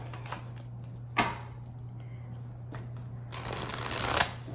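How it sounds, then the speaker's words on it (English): A deck of oracle cards being shuffled close by, soft riffling bursts and slides over a steady low hum, with a louder flurry near the end. "I will see by shuffling if what pop-outs come out."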